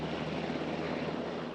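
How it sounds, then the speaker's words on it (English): Black Hawk helicopter flying overhead while surveying damage during the Baltimore riots, a steady, dense rotor and engine roar that holds constant throughout. "Today, the governor boarded a Black Hawk helicopter to survey damage from above"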